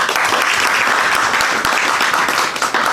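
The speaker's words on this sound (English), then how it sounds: "So may I take this opportunity on behalf of the Health Committee to first of all welcome our donors and partners on board by a clap and an applause" A summit crowd breaks into loud, sustained clapping and applause for donors and partners, a thick close wash of many hands with no pause.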